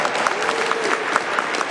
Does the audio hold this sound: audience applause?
yes